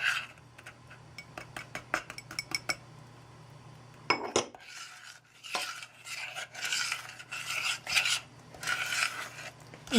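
Sugar and flour being mixed for marbled mint brownie batter, a utensil scraping and clinking steadily against a bowl, close up with no talking.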